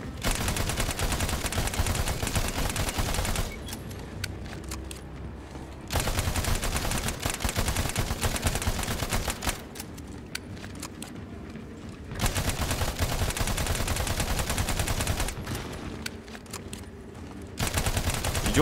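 Rapid sustained gunfire in the shooter game Battleborn, long loud bursts broken by short quieter pauses, repeating several times with no talking over it.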